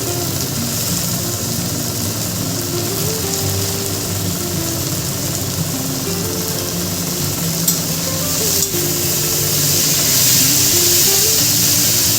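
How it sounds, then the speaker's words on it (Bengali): Four chopped tomatoes sizzling steadily in a hot pan, a continuous hissing fry with faint stirring scrapes, close and fairly loud throughout, no talking. "এখন টমেটো দিয়ে দেবো, কেটে রাখা টমেটো, 4টা টমেটো নিয়েছি।"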